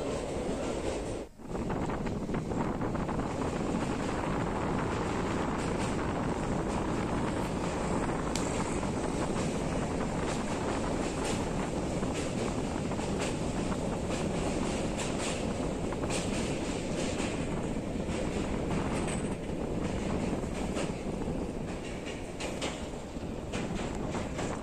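A passenger train on the Hubballi–Vijayapura line runs into Almatti station with a steady, loud, close rumble of wheels and carriages, and wind buffets the microphone throughout.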